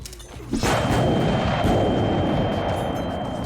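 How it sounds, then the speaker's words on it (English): Deafening gunfire rings out from above during a battle at a gate in a video game, a sudden loud burst followed by sustained, rumbling roar. "Deafening gunshots ring out from above."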